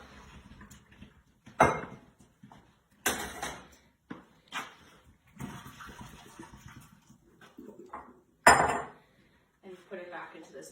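Cooked cauliflower being strained, with several sharp, loud clanks of pots and a bowl knocking together and softer scrapes and clinks between them, close by, with no talking.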